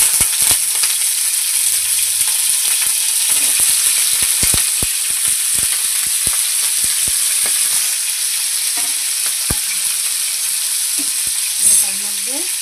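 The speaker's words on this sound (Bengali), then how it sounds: "একটু হলুদ দিয়ে অল্প করে একটু ভেজে নেব" Broccoli frying in oil in a wok-style pan with a pinch of turmeric, giving a steady loud sizzle throughout with repeated sharp scrapes and taps of a spatula stirring it.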